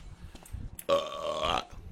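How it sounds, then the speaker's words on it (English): A single long, loud burp rumbles out close up after a moment of quiet room noise. "Stop that burping, dude."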